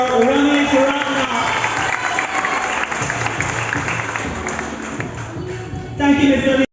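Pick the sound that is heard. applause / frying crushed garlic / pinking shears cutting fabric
applause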